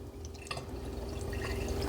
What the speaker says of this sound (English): So again, we're just draining it, the water.